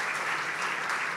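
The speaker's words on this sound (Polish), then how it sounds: "Myślę, że zasłużyliśmy na te skromne brawa." Applause from the guests at the 2024 Sport and Business Ball, a steady, fairly close burst of clapping with no voices over it.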